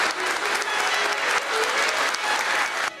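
Steady, dense applause from an audience in a hall during an English teacher award ceremony, sustained for the whole stretch as a laureate is called to the stage.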